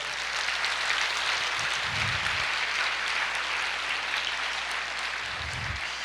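A church congregation applauds the Lord during a sermon, steady broadband clapping filling the whole stretch at moderate loudness, with a couple of faint low thumps and no speech over it.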